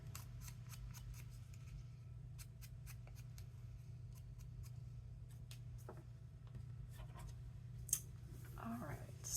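Paper is cut with scissors, snipping around the edge of a cutout for a playing-card craft: a steady series of short, crisp snips, near and moderately quiet over a low steady hum, with a brief louder rustle near the end.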